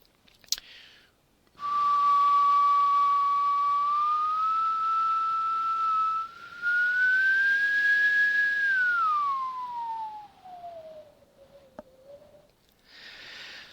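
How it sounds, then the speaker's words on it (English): A person whistles one long, loud, continuous tone in a lecture room. The pitch rises slowly, then glides down, and a brief break in the middle is the only pause. "So I will now whistle a little bit and you can see what happens on the screen."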